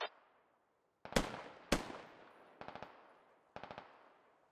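Video game gunfire: two loud single shots, then short rapid three- and four-round bursts, crisp and close with brief echoing tails between them and no talk.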